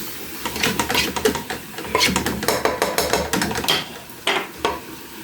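Chicken frying in a pot for a Ramadan dish gives steady, close sizzling with repeated clinks and scrapes of a utensil stirring against the pot, heard alone without talk.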